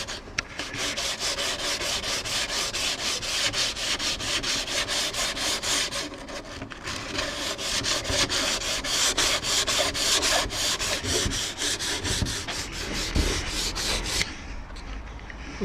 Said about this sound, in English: it's had 2 coats of sealant, and I'm sanding it back now